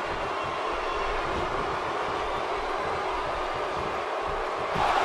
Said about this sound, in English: Oh, get off the tracks. There's a train coming through.